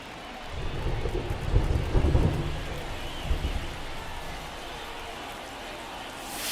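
Thunderstorm over a ballpark in an MLB baseball game: a low rolling rumble of thunder swelling and fading over steady hissing rain, fairly loud, with no voices.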